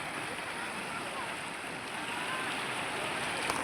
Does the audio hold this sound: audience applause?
no